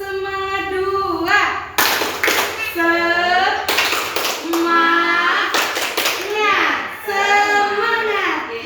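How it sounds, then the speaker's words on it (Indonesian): A group of women claps along in a classroom spirit chant, quick rhythmic bursts of hand claps trading off with voices chanting and speaking between them, close and fairly loud. "Baiklah, kita tepuk semangat dulu ya ibu-ibu ya"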